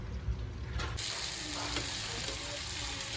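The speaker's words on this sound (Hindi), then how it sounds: "तो हमने सब पीस को ऐसे फ्राई पैन में रख लिया है और मीडियम फ्लेम पे ही इसको होने देना है।" Fish pieces fry in a pan over a medium flame, giving a faint, continuous crackling sizzle with a few soft clicks and scrapes, and no voices.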